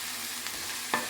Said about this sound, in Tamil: அப்புறம் கத்தரிக்காய், போட்டு வதக்க போகிறேன்